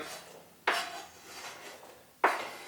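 Extra vegetables tossed into a pot of Irish stew, landing with two sharp clattering thumps about a second and a half apart, with quieter rustling between them.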